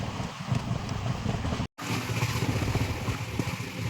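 Indian express train 22629 between Dadar and Tirunelveli running at high speed: a loud, steady rolling rumble with rattling, broken only by a brief dropout near the middle.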